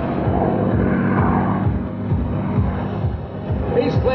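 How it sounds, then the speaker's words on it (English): P-51 Mustang propeller fighter flying a tight minimum-radius 4G turn at an airshow, a steady droning engine roar with pulsing propeller beats, moderately distant and continuous throughout. "This is the minimum radius turn with this P-51 Mustang."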